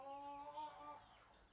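Backyard chicken on a farm in Nueva Vizcaya province, Philippines, gives a short, faint cluck with a thin tonal call, heard quietly against low background noise.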